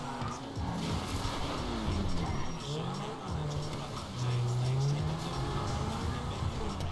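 Game-engine car noise from Grand Theft Auto V carries a steady engine drone with rising and falling revs as the car overtakes, and someone talks in German over it.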